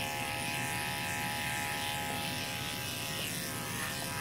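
Continuous, steady buzz of an electric clipper running close up while trimming an Airedale's coat along the rib cage, unbroken and even throughout with no talking.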